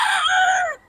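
A young rooster (stag) of Gilmore Hatch bloodline crows once at a market, a short bright call that cuts off abruptly in under a second.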